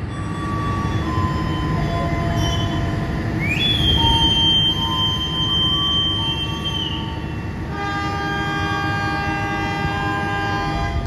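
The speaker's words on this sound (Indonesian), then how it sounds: "Tepat waktu kereta api berantas berangkat dari stasiun Blitar." KA Brantas economy train pulling out of Blitar station, a long sustained horn blast sounding mid-way over a steady, heavy rail rumble and rolling wagon noise.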